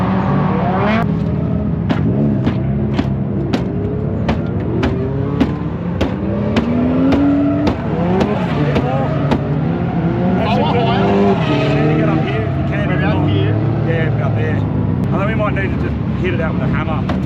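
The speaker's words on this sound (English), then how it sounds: "I finally get to kick out the rear on the JZX." A Toyota JZX with its rear kicked out in a drift, the engine revving hard and steadily throughout, loud and close, with people talking over it.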